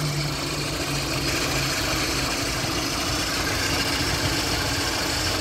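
A Lada 4x4 engine idling smoothly after an oil and smoke additive, a steady close, loud mechanical drone with an even low rumble and no talking.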